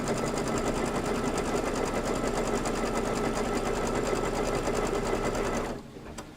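Embroidery machine stitching a Kimberbell table topper on linen, a loud, steady rapid whirring hum that runs without a break before cutting off abruptly near the end.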